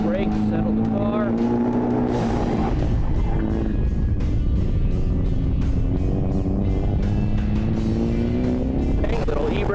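A drift car held sideways with a small handbrake initiation, engine roaring loud and steady with pitch rising and falling as it slides, tire and exhaust noise continuous throughout, with voices over it.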